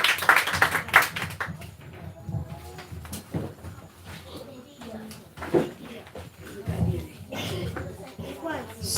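A church audience gives scattered applause. Bursts of clapping rise and fade amid talking voices in a reverberant hall, mostly loudest near the start and again toward the end.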